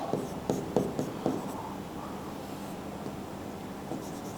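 Pen writing out chemistry notes, with quick scratchy strokes and a few sharper taps early on, then softer continuous scribbling, close and quiet with no talk.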